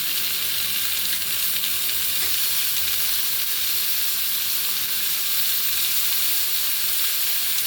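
Onions and tomato sauté in a pan for a roasted-gram kurma, producing a loud, dense, continuous hiss and sizzle with no pauses, heard up close and without speech.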